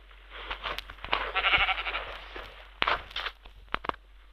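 A cow in Minecraft gives a drawn-out bleating moo, followed by a few shorter calls mixed with soft footstep clicks, all close and without talk.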